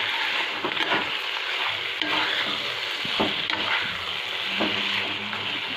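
Shinwari beef stirred and mixed in a sizzling pan, restaurant style, with black pepper added: steady loud frying hiss with scraping stir strokes throughout, no voices.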